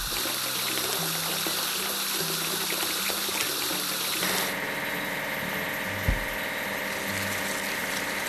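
Water sprays and gushes steadily as an open wagon truck gets washed in a children's video game, with a pumping hum under the spray and a brief clunk near the end.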